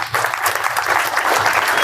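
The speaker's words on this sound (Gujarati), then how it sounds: "એમના માટે જોરદાર તાળીઓ થઈ જાય" Loud, dense applause from an audience at a free school-book distribution event, steady clapping filling the whole short stretch without a break.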